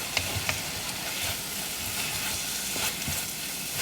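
Chicken chukka sautéing in a pan sizzles loudly and continuously, with a few sharp stirring clicks early on and a steady hiss throughout.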